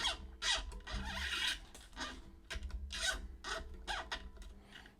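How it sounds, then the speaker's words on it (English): A steel-wound ukulele string is pulled through a tuning peg, making close, quiet rasping rubs in several short strokes separated by brief pauses. "pull all the excess through your tuning peg"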